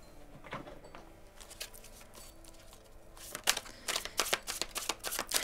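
A deck of oracle cards is shuffled by hand nearby, soft riffling and sliding at first, then a run of sharp, rapid card snaps and flutters growing louder toward the end.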